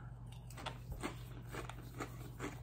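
Dry Apple Pie Toast Crunch cereal being chewed close up, a series of soft crunchy bites repeating at a steady pace, quiet and alone against a low background hum.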